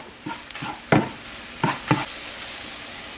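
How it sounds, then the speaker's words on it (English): A spatula stirs seasoned food in a hot pan, making several distinct scraping strokes over a steady sizzle of frying, close and clear, without speech. "And just stir that up."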